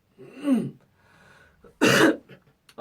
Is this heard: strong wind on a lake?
no